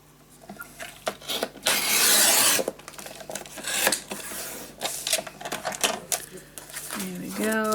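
A paper envelope being cut open for a spooky-season pop-up scrapbook album, close scratchy rasping and a rough slicing swish, with a voice talking over it.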